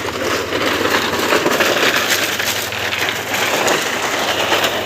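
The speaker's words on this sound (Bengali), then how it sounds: "আর গেলে এরকম আওয়াজ হয় এক একটা গাড়ি গেলে।" A vehicle crosses a stretch of road broken apart by heavy rain, making a loud, close, continuous rattling rumble that rises and falls slightly.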